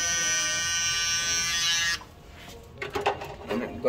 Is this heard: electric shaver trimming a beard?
yes